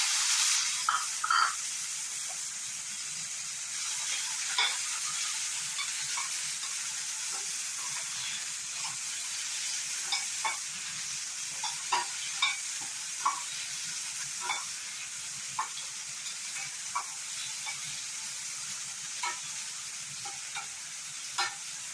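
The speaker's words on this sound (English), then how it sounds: "ये अच्छे से फ्राई हो गया है।" Tomatoes fry in a pan for pepper rasam, a steady close sizzle and hiss with scattered scraping and stirring ticks running throughout, no voices.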